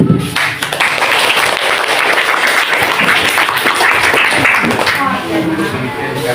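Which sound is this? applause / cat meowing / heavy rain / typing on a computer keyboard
applause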